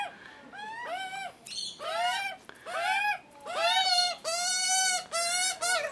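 Hungry juvenile magpie calling repeatedly in a series of loud, rising, wavering screeching cries, close by, with short pauses between them and no talking.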